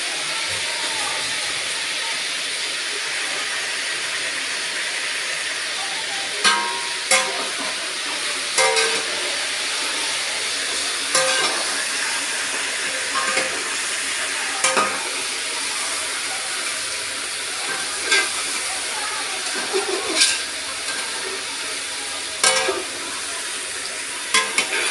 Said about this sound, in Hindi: हमने चिकन ऐड कर दिया है। तो तकरीबन 10-15 मिनट हम इसको फ्राई करेंगे